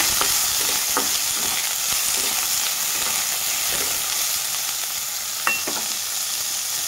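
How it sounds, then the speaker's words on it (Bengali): Paneer fries lightly in a pan with a steady, close sizzle running throughout, broken by a few faint scrapes and one brief clink of a spatula. "তো পনিরটাকে আমি হালকা ভেজে নেব।"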